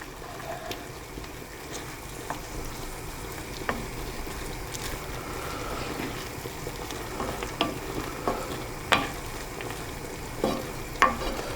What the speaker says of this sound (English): we're going to let that simmer away and cook for 20 minutes